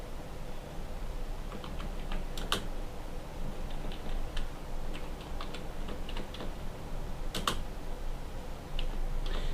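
Typing on a computer keyboard while entering a company name in MS Word: a steady run of light, close key clicks with a few sharper louder taps, no voice heard.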